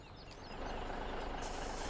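A truck's loud reversing buzzer in the Farming Simulator 17 video game sounds in quick repeated tones over a rising engine rumble, with no talking.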